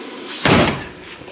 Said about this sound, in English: As usual, this door doesn't want to close very well.